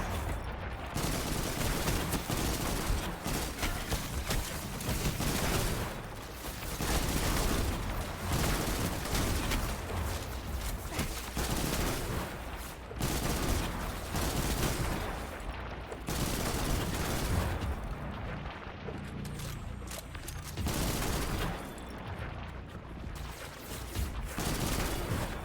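Weapon fire in Destiny 2 during the Lament quest, near and loud bursts of rapid shots repeating in waves for the whole stretch, broken only by brief pauses, with no talk over it.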